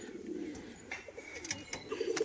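Pet pigeons of a crested fancy breed kept for sale coo close by, a few soft throaty rolling calls mixed with light wing and cage rustles, no speech.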